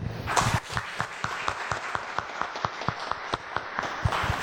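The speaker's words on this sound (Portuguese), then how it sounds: "Vamos dar uma salva de palmas também." Congregation at a church service claps in a scattered, uneven patter, individual hand claps standing out at moderate volume over a low room murmur.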